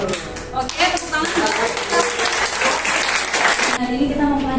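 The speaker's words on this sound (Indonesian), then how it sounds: "Oke, tepuk tangan." Classroom audience applauding at a lecturer's teaching demonstration, a dense burst of hand clapping mixed with voices and chatter throughout, fairly loud and close.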